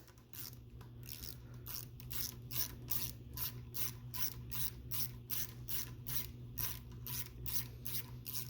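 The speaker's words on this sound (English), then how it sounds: "I usually just run the thread chaser through just to make sure there's no little burrs or anything left" A thread chaser ratchets through a threaded hole on an '87 Chevy S10 rear backing plate, a fast even series of clicking pawl strokes over a low steady hum, faint and close.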